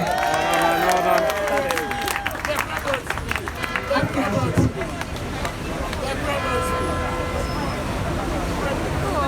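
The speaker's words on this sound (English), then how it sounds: "So a big round of applause to Robert." Outdoor crowd at a London street protest against road closures, clapping and cheering amid hubbub and scattered voices, loud at first and then settling into a murmuring babble.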